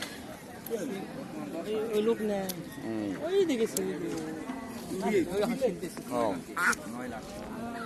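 Ducks quack repeatedly at a busy village livestock market, the Naogaon Mataji haat, their calls rising and falling near the listener amid a steady hubbub of people talking and bargaining.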